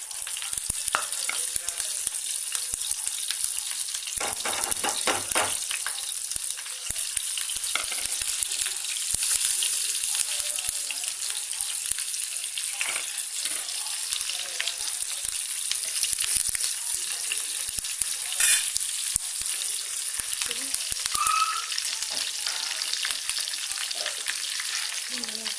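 Curry leaves, mustard seeds, cumin and lentils frying in oil in a pan make a continuous bright sizzle with scattered pops and crackles. A few stirring scrapes appear, and no voices are present.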